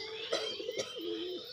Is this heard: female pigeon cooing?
yes